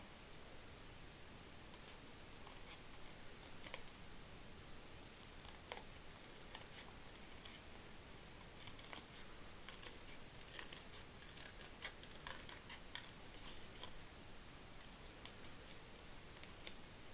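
Scissors snipping through paper while making a Christmas card, a quiet run of short crisp cuts ticking irregularly over a steady background hiss, close by and faint.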